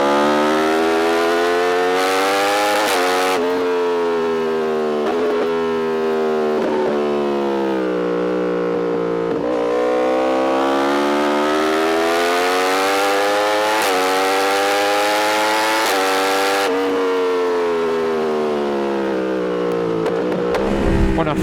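A 2024 Yamaha R1 sport bike revving hard through its gears, loud, sustained, high-pitched engine wail rising in pitch with each gear and dropping at quick shifts, heard close and continuous.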